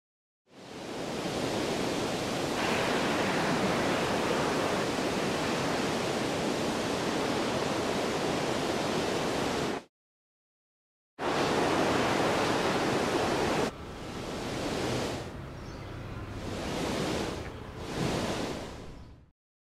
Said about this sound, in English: Listen to how I change the wind sounds when the camera angle changes.